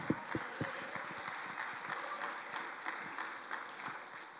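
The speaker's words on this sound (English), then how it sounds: "Let's give the Lord a hand clap of praise." A congregation claps hands in praise during a church service, a steady dense patter of many hands with sharper individual claps standing out, continuous throughout.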